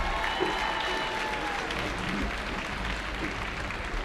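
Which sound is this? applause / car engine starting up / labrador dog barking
applause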